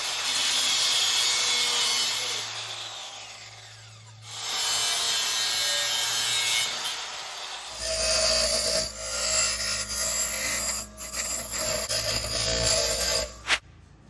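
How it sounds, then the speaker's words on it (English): Steel pieces are cut with a harsh, loud grinding and rasping sound in long sustained stretches, broken by a brief pause and changing in pitch as the cut goes on, close and without talk. "So I cut these two pieces of steel out"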